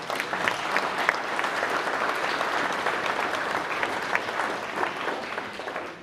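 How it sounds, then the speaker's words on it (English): Audience at an awards day applauding volunteers, a steady, dense burst of clapping from a sizable crowd that holds for several seconds. "one more round of applause for all of the volunteers that put in a lot of work"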